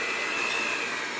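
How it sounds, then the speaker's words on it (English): An electric hand mixer creams cream cheese for a chocolate cake, giving a steady, even motor whir at moderate volume with no pauses and no voices. "you're going to use a hand mixer and cream it before you put in the other ingredients."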